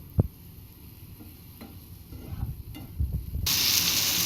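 Potato and pointed gourd fry in oil for a Bengali fish curry, with a few stirring scrapes and clicks before the sizzle rises sharply into a loud, steady hiss near the end.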